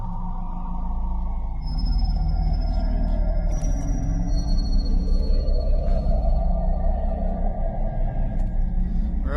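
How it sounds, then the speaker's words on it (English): A mysterious high-pitched mechanical hum at a lake in Australia, a steady droning tone with a wavering whine layered over a deep continuous rumble, loud and unbroken for several seconds without speech. "A high-pitched humming, mechanical, unnatural, like something out of a sci-fi movie"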